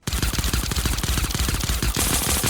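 Rapid burst of suppressed pistol fire in the Fortnite video game, a dense run of close, loud, evenly spaced shots over about two and a half seconds with no talk.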